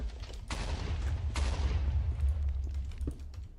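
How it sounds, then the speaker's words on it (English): Muffled explosions rumble from somewhere in a modded Minecraft world, with a few dull booms and cracks over a constant low roar, heard at a distance with no talk over them. "I have no idea what those explosion sounds were."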